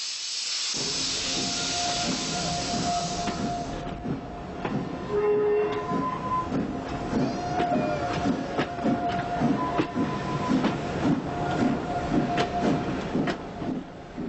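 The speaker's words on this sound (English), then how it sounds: "Once the steam locomotive, with the beautiful name of Merlin, gets started, we travel." Merlin, a steam locomotive hauling carriages across Ireland, opens with a loud blast of escaping steam, then settles into a steady rhythmic chuffing and clanking as the train gets under way, with faint whistle tones.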